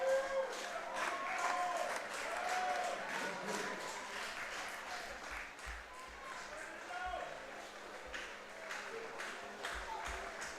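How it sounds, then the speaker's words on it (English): Baseball fans at an IBL ballpark game between the Welland Jackfish and London Majors clap along in a steady rhythm. The applause comes from a distant crowd, fairly faint, with a broadcaster's voice over it. "Fans that are still left in the ballpark clapping along here as Fernandez looks to end the ball game."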